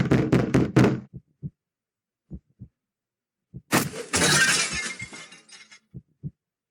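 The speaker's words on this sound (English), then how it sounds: "the sound of the door being ripped off its hinges, followed by a loud crash against the wall on the other side of the room" A door is ripped off its hinges and slams into a wall across a room in a dramatic audio scene, heard as a long, loud crashing burst after a series of heavy knocks and thuds, with no talking.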